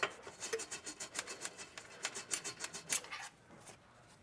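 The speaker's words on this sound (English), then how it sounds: "get a bottle brush cleaner and clean the threads of these weld nuts up here" A bottle brush scrubs the threads of weld nuts on the frame of a 2018 Jeep Grand Cherokee, making quick, rhythmic rasping strokes that are close but faint, then stopping.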